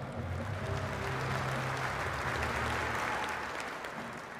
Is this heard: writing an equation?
no